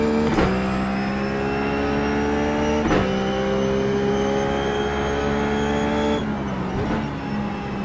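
A Ruf GT3 race car coasting through a long curve at Spa in iRacing, its engine holding a steady, slowly falling harmonic drone with a couple of sharp gear-change clicks, loud and close throughout.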